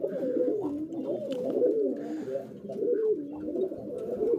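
A wild pigeon being tamed coos close by in low, rolling, repeated phrases that carry on continuously, clear and prominent with no speech.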